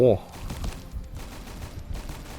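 Hundred-round machine gun in Roblox Last Run, firing in a burst that opens with a sharp loud report and then settles into a rough, lower rattle, with speech faintly present.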